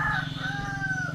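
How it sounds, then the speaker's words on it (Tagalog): Roosters crow loudly with long drawn-out calls over a steady low rumble of clucking hens, the crowing carrying clearly through the short stretch at night. "Ang amo ang mga manok saba gyapon kaayo."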